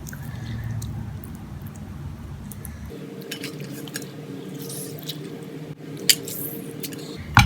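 Washed ground meat being mixed with lemon juice in a bowl, soft wet squelching and squishing up close, with a few light clinks of a utensil against the dish.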